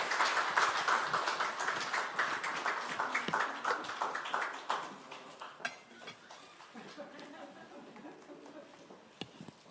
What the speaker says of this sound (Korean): 여러분께서 박수로 환영해 주시기를 바랍니다.